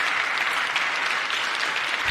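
Sustained applause fills a large chamber during the State of the Union address, a dense, even wash of clapping at steady volume throughout.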